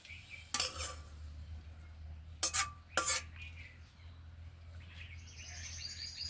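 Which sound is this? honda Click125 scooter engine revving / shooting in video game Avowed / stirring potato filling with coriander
stirring potato filling with coriander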